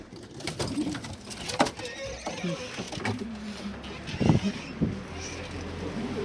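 Pigeons coo on a balcony used for breeding them, with low soft coos and wing flaps heard nearby under background noise and a few clattering knocks.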